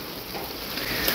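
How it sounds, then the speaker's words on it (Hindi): Heavy monsoon-style downpour drumming steadily as a dense, even hiss of rainfall, close and continuous for the whole moment with no voices. "फुल मूसलाधार बारिश में धा गिना बस"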